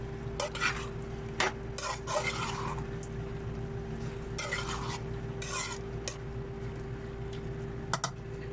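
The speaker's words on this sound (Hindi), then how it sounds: "इसको करेंगे मिक्स अच्छी तरह, ताकि इसका कलर ये तमाम वेजिटेबल के इर्द गिर्द हो जाए।" Tomato sauce being stirred into mixed vegetables in a pan, with repeated scraping strokes of a spoon coming in short bursts over a steady low hum, close and moderately loud, with no talking.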